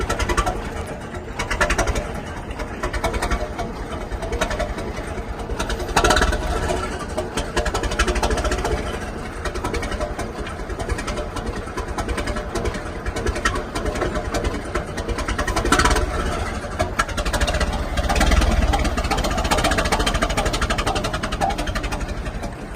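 A 1920 American LaFrance chain-drive fire engine on hard rubber tires runs steadily on the move, with a continuous rumbling engine and rattling drive that stay loud and close throughout, without talk.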